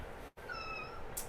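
A single high, drawn-out meow sounds close by for under a second, most likely a child imitating a pet cat, with no other voices.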